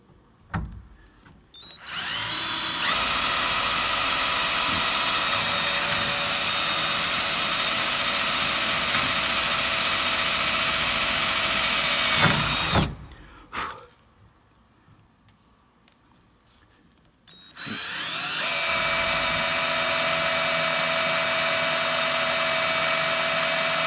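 Power drill boring pilot holes while a Nissan Leaf battery solar storage bank is built, giving a loud, close, high whine in three long runs separated by quiet pauses.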